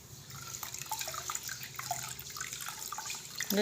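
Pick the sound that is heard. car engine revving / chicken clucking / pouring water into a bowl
pouring water into a bowl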